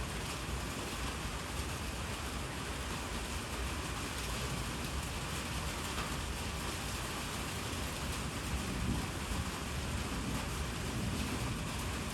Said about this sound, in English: it's still a little drizzling, little rain hanging around